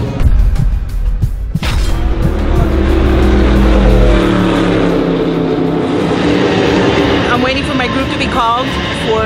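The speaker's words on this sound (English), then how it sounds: "These are open wheel, full size Indy style race cars." Full-size open-wheel Indy-style race cars roar past loudly and close, a sharp burst of engine noise followed by long sweeping whines that fade and shift in pitch, with more cars passing near the end.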